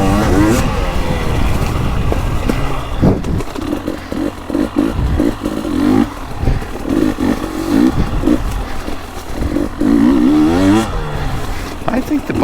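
KTM 300 two-stroke dirt bike engine on a woods loop, revving and bogging in loud uneven bursts close by, with a rider's voice talking over parts of it.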